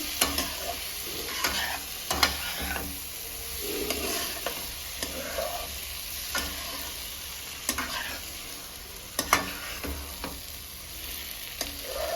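Fried mushrooms are stirred into masala in a pan, giving a quiet sizzle under rhythmic scraping and tapping strokes of a spoon that repeat every second or so.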